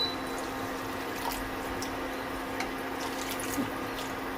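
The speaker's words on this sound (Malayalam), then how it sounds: "ഞാനിവിടെ 1 കപ്പ് വെള്ളം ചേർത്തിട്ടുണ്ട്." A cup of water is poured into a simmering green plantain curry with cooked tomatoes: a steady, close splashing trickle over a constant background hum.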